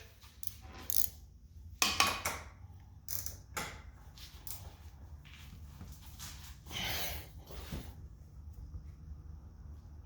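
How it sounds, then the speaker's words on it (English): A wrench works loose the coilover top nuts on an Infiniti G37, producing scattered ratchet clicks and creaks, faint and intermittent, with some breathing between efforts. "All we have left to do is to get the top nuts out, and then she's out. So let me find my wrench."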